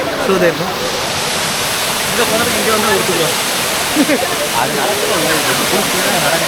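A waterfall roars in a steady, loud, unbroken rush, with faint voices mixed into the water noise.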